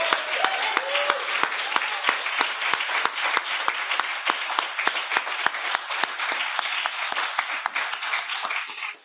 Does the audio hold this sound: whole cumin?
no